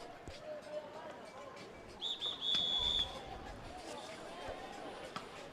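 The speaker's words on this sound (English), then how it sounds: "And as the whistle blows," A referee's whistle blasts once for about a second to start a women's canoe polo match between China and Hong Kong at the ICF Canoe-Kayak Polo World Championships, sharp over crowd murmur and commentary.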